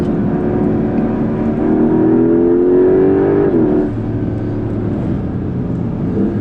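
A Porsche 911 Carrera GTS hybrid (992.2) accelerates hard on a racetrack, its engine note loud and close, rising steadily in pitch before dropping at a gear change and pulling again.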